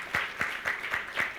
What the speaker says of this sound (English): Let's give us a big hand.